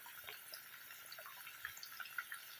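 Liquid drips while food is drained for frying salmon, giving faint scattered patters and small droplet splashes over a quiet hiss, close by with no talk.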